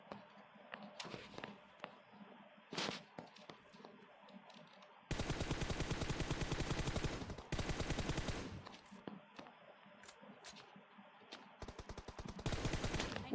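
Automatic gunfire in the mobile shooter game PUBG Mobile, coming as long, loud, rapid bursts separated by quieter stretches with scattered single shots and footstep-like taps, with no talking.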